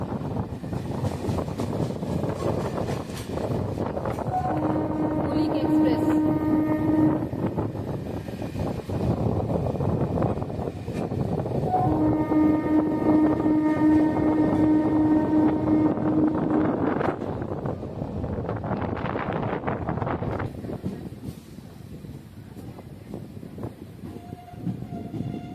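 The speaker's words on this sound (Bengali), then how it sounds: "কুলিক এক্সপ্রেস, যেটি হাওড়া থেকে রাধিকাপুর যায়, আর এটি হচ্ছে রাধিকাপুর থেকে হাওড়ার দিকে ফিরছে।" The Kulik Express runs from Radhikapur towards Howrah with a steady, heavy rumble of wheels on track, broken by two long horn blasts, the second held for several seconds, and buffeted by wind noise throughout.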